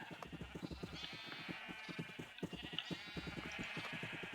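Minecraft sheep bleat repeatedly in quick succession, close and fairly loud, with a steady pulsing game sound running underneath.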